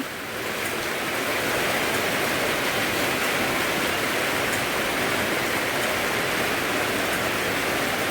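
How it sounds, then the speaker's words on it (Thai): Rain falling steadily outdoors, a dense unbroken hiss of water with no pauses, loud and close throughout. "อันนี้ฝนมันตก"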